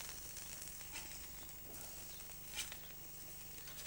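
Halloumi slices sizzling on a hot barbecue grill, a steady, fairly faint crackle and hiss running without pause, with a few slightly sharper pops.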